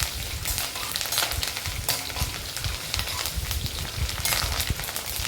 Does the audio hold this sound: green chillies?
yes